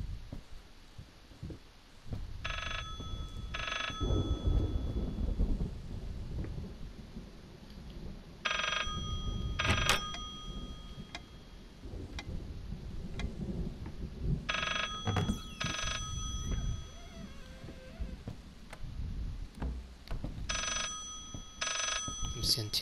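An old-fashioned telephone rings in the horror game Layers of Fear, sounding in repeated double bursts of bright bell tones over a low ambient hum, with a player talking now and then.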